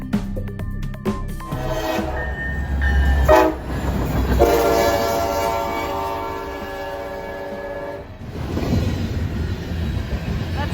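An Amtrak passenger train rumbles past close by, horn blaring in long tones over rattling wheels and clattering cars.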